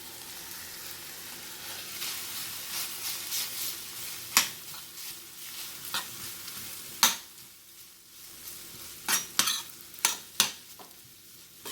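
Chicken and beef burrito filling with vegetables and rice sizzling steadily in a pan while a spoon stirs it, with scattered sharp scrapes and knocks against the pan, close and without talking.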